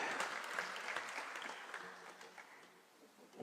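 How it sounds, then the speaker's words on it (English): A crowd at a formal gathering in Gigiri, Kenya, claps steadily, giving a dense, continuous patter of applause at moderate distance with no voices over it. "let's clap as they're coming"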